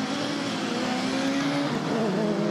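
A pack of 2013 European touring cars, Seat Leon Cupra, Ford and BMW Super 2000 machines, racing at Monza, their engines droning loudly and continuously as they pass close by.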